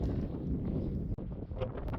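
Strong wind buffeting the microphone in a steady, low roar, with gusty rumbling throughout and no other clear sounds.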